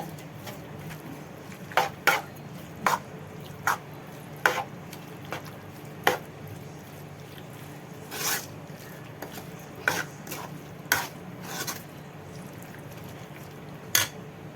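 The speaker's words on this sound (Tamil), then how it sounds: "நல்லா அந்த மிளகாத்தூள் வந்து எல்லா இதுலேயும் ஸ்ப்ரெட் ஆகிற மாதிரி கலந்து வச்சுக்கோங்க" Lemon pickle being mixed with chilli powder, a series of scattered scraping and rasping stirs against the pan over a low steady hiss, strokes spaced irregularly and moderately loud up close.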